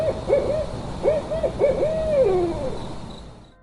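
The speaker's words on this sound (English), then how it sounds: "The night air was filled with the cries of owls and the rustle of unseen creatures." Owls hoot at night in a series of wavering, moderately close calls, the last one drawn out and sliding down in pitch before fading, with a faint background hiss.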